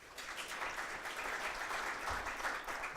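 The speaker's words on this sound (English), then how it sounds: "A round of applause for Dr. Fahmi." An audience at an African research summit applauds, a steady wash of many hands clapping at moderate distance throughout, with no speech over it.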